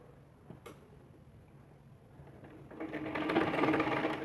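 Sewing machine stitching straight along piping on a blouse, quiet soft ticks at first that build into a louder rapid run of needle strokes near the end, close by and with no talking.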